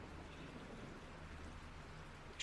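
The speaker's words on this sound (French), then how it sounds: "Il y a juste la pluie qui tombe dehors" Light, fine rain falling steadily outside, a soft continuous hiss with faint patter, no voices.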